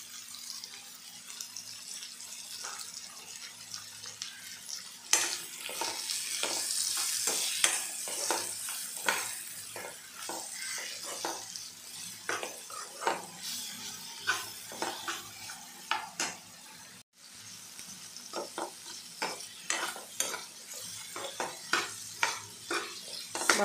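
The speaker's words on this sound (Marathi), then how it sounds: "मसाले याच्यातले परतून झालेले" Spices and vegetables frying in a pan for tomato rice, stirred with a utensil, giving a steady sizzle broken by many sharp scraping and tapping strokes, close and moderately loud, with no talking.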